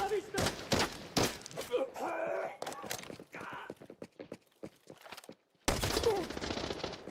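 Repeated gunfire from the H4 PLS in a shooter video game, sharp bursts of shots in clusters with pauses between, loud and close, mixed with in-game noise and a person talking over it.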